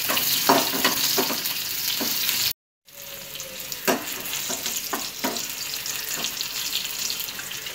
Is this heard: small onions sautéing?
yes